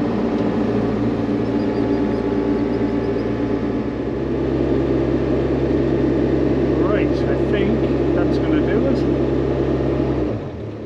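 A heavy excavator engine drones steadily while the machine manoeuvres a log, a loud, close, constant rumble with faint creaks and squeals midway before the engine cuts off near the end; a voice is briefly heard.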